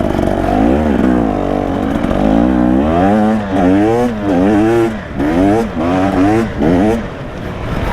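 A 2025 KTM 300 EXC two-stroke enduro motorcycle rides a forest enduro trail, its engine loud and close, rising and falling in repeated revving bursts with brief throttle-offs, while a rider talks over it.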